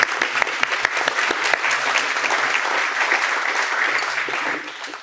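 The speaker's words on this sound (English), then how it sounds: "Everyone clap," Steady audience applause at a talk after a short film, dense crowd clapping sustained throughout with a few sharper claps near the start.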